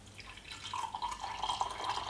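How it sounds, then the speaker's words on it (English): Ceremonial cacao spiced with chai spices is poured into a cup, a soft continuous liquid trickle that holds steady for a couple of seconds, alone and fairly quiet. "So we have made a delicious cacao, and now we're going to pour it."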